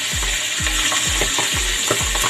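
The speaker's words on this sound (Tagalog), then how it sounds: "ngayon po ay ipiprito muna natin sandali ang ating bangus" Boneless milkfish (bangus) frying in a hot pan gives a steady, loud bright sizzle, broken by a row of about five evenly spaced low thumps, with no voices.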